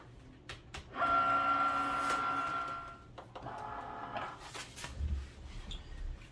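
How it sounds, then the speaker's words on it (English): A Cricut cutting machine in fast mode whirs and buzzes as it cuts a sparkly glitter iron-on sheet, with a steady motor tone followed by quieter, shifting mechanical movement close by. "Insert our sheet, press fast mode on the computer, and hit the flashing Cricut button."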